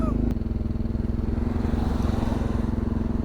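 A Solex motorized bicycle's small engine runs while riding, a close, steady rapid putter with an even pulsing rhythm, with a brief voice near the start.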